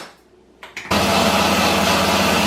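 A kitchen blender making plant-based mayonnaise switches on after a brief quiet clatter, then runs at low speed with a loud, steady whirring drone to the end.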